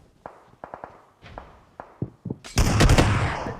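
Gunfire in the mobile battle royale game PUBG Mobile during a competitive scrim: a few scattered single shots and footsteps, then a loud, dense burst of rapid fire and explosions near the end.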